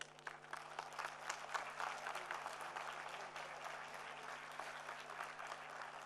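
An audience at a live online lecture series claps after a talk, a steady round of applause from a modest crowd that swells slightly and holds for several seconds, fairly faint and with no clear voices.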